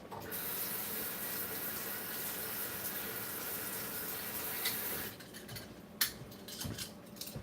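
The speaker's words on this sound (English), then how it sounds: "Rinse off these tongs." Barbecue tongs rinsed under a running tap, with a steady loud rush of water for about five seconds, then it stops and a few metallic clinks and knocks follow.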